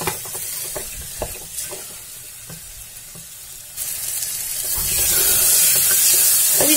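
Ingredients for dal palak sauté in a pressure cooker: a steady sizzle with frequent spoon clinks and scrapes, then a louder, denser hiss from the pan surges and keeps building.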